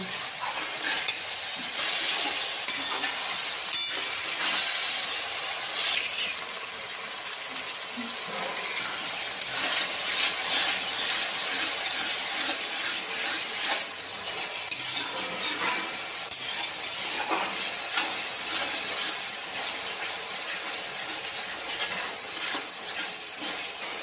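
Chicken masala with onions sizzles and is stirred in a pan during kosha, a steady close frying crackle broken by scraping stir strokes throughout.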